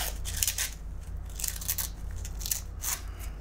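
Printed book paper being torn by hand for a junk journal page, a series of short dry ripping bursts repeating about once a second, close and fairly quiet over a low steady hum.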